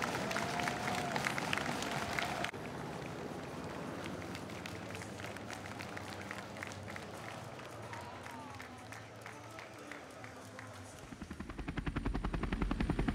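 A helicopter hovers over the final sprint of Stage 2 of the 2022 Tour of Hungary bicycle race, its rapid rotor chop pulsing steadily beneath crowd noise and cheering, swelling louder toward the end.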